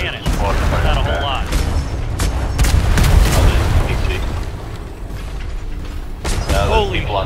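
Enemy cannon fire in ATLAS during a ship battle, several heavy booms and mechanical clatter spread across the span, mixed with crew voices talking and shouting over it.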